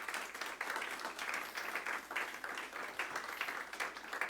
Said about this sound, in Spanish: Démosle una ofrenda de palmas al Rey en el nombre de Jesús.